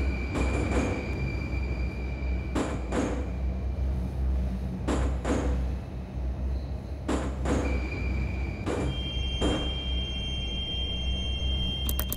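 A Moscow Metro train on the Kaluzhsko-Rizhskaya line rolls into Sukharevskaya station in a 2D metro simulator game: a steady rumbling run with a continuous whine, punctuated by sharp rhythmic clacks of wheels over rail joints, with no voices.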